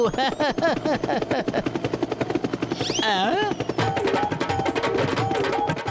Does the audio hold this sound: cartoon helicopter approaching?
yes